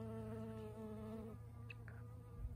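Honeybees buzzing among flowers outdoors, a faint, steady drone with wavering pitch close by, fading after a couple of seconds into quiet background.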